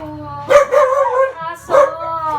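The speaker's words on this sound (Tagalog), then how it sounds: "Aso!" Dog barking indoors at visitors arriving at a house, two or three sharp, fairly close barks with a whiny tone, separated by short pauses.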